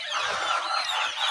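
Two-month-old chickens on a poultry farm, a dense, continuous chorus of high-pitched peeping and calling from many birds at moderate volume, no talking.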